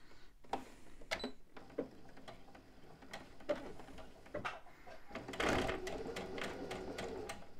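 Sewing machine stitching a seam on a Pepper tote bag, heard as a series of short mechanical bursts and clicks with irregular pauses, moderately close, building to a denser run near the end.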